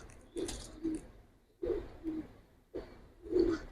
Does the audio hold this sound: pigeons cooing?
yes